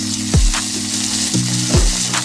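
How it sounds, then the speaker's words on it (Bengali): A large onion hits hot oil over medium heat with lightly fried garlic, sparking bursts of loud, close sizzling over a steady frying hiss, with utensil scrapes. "এবার দিয়ে দেবো একটা বড় সাইজের পেঁয়াজ।"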